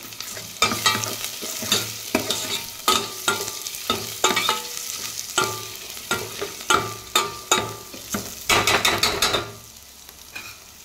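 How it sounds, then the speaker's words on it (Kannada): Green chillies and powdered asafoetida frying in hot oil while a spoon scrapes the pan in brisk repeated strokes, a close, loud rhythmic stirring over continuous sizzle, fading to quiet at the end. "ನೋಡಿ, ಈ ಥರ ಎಣ್ಣೆಲೆ ಚೆನ್ನಾಗಿ ಹಸಿಮೆಣಸಿನ್ಕಾಯಿ ಮೇನು ಫ್ರೈ ಆಗಬೇಕು."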